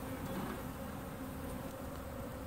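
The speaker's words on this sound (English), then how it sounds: "there's some bees with some nectar" Honeybees hum at an open beehive in a steady, close, continuous drone with no voices, their wings buzzing evenly while they bring in nectar to the frames.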